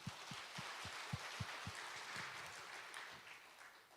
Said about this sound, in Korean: 우리 하나님께 박수 영광을 돌립니다.